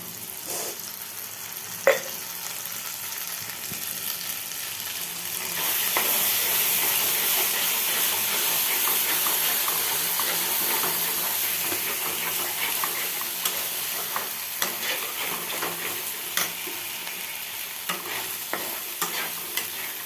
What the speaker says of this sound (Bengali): আমি একটু কাঁচা তেল ছড়িয়ে দিচ্ছি